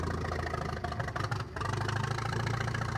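An International Harvester tractor engine idles in Farming Simulator 22, a steady low, knocking rumble with a brief dip partway through before the even throb resumes.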